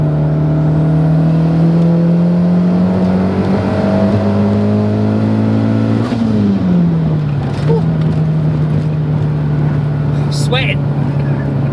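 A 525bhp turbocharged Renault Megane 225 engine pulls hard on boost, its loud steady drone climbing in pitch, dipping briefly at a gear change around the middle, then pulling again, with turbo whistle over the top.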